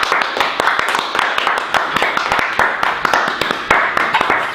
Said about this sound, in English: I think you deserve to give yourselves a little round of applause too.